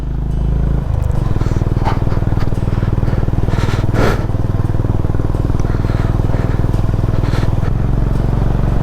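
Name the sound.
motorcycle riding on a mountain road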